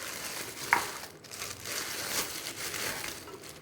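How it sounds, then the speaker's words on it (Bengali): Raw mutton sliding and tumbling out of a plastic market packet into a bowl, a soft crinkling, squelching rustle with one sharp crackle near the start, steady and fairly quiet throughout. "আর এই যে প্যাকেটে কি নিয়ে এসছে সেটা আগে ঢেলে নিই।"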